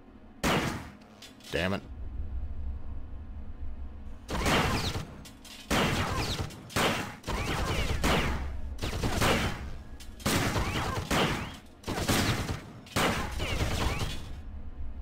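Gunfire from a degrading weapon in System Shock 2, separate loud bursts of shots in clusters broken by short silent gaps, close and sharp, with someone briefly speaking between them.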